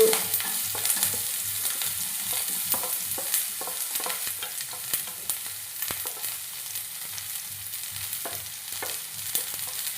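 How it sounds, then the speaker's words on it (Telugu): Cloves and a piece of cinnamon with onions frying in hot oil in a pan, a steady close sizzle with frequent scrapes and clicks of stirring throughout. "మూడు లవంగాలు ఒక దాల్చిన చెక్క ముక్క వేసి వేగనిద్దాం తర్వాత ఉల్లిపాయలు"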